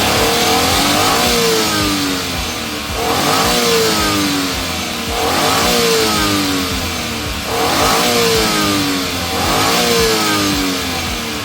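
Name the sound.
Suzuki DA17V engine revving higher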